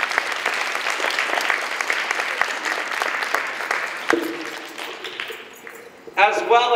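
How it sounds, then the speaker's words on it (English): An audience at a DARE graduation applauds for a police officer, a dense, steady clapping from a crowd that fades near the end before a voice begins speaking. "So how about a round of applause for Officer Scott?"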